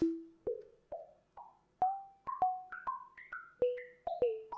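A series of clean synthetic sine wave tones, each echoing through a grain delay that repeats and climbs higher in pitch, spacey and evenly spaced, with no voices.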